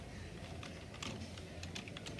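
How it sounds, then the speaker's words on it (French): Computer keyboard keys pressed while playing a game, a faint, irregular patter of clicks over steady background hiss. "Pour vous montrer les gars que je joue bien clavier"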